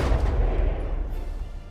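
Heavy cannon fire from warships in the naval combat game From the Depths, a dense, sustained rumbling barrage of overlapping booming shots with no clear gaps, loud and continuous.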